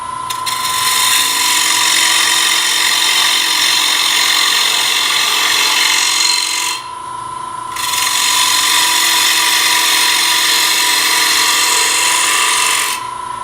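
A bowl gouge cuts the outside of a wooden bowl spinning on a lathe. The scraping hiss is loud and steady, stops for about a second in the middle, then returns at the same level until the end, with no talking.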